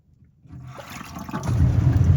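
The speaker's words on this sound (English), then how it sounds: "I'm going to pull this up and turn on the disposal" A kitchen garbage disposal starts up in a sink with a growing low churning rumble as water drains. It builds over about two seconds and grows louder toward the end.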